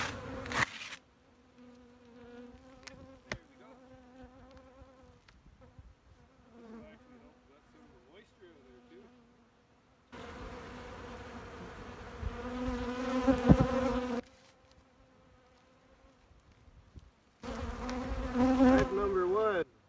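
Honey bees buzz around backyard hives as a hive is opened, a droning hum that comes and goes, with louder close swarming passages and quieter stretches of scattered flying bees.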